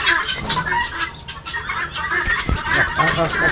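Laying hens cluck and chatter close by on a chicken farm in a busy, continuous flock, with some wing flutters and scattered chirps layered throughout.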